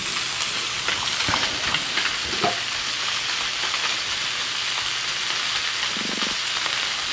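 Salmon fillets cook on a very hot griddle, giving a dense, steady sizzle and crackle that runs evenly throughout. It is close and unbroken, with no voices.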